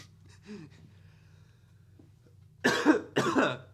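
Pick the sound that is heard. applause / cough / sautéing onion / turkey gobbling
cough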